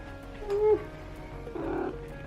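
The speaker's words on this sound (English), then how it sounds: "Are you meowing at me?" A house cat gives a short, close meow, then a second, softer mew-like call follows a moment later in a quiet kitchen.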